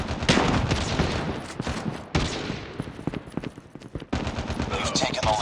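Loud, close automatic gunfire from a machine gun in Call of Duty Mobile, firing in several sustained bursts with brief gaps between them.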